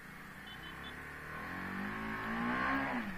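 TVS Apache RR 310 motorcycle, a 310 cc bike, accelerating with a steadily rising engine note that climbs in pitch and loudness over a few seconds, heard from close by.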